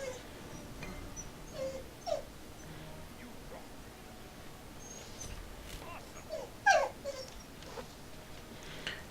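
A dog whimpers faintly in the background a few times, short thin whines rising over a steady low hum from gameplay audio, the clearest cries coming near the end.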